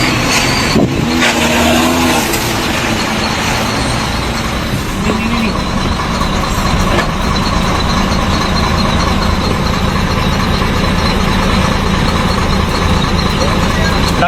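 A truck pulls away and drives off along a road during a roadside confrontation with a drunk man, its engine loud and steady throughout with traffic noise and voices mixed in.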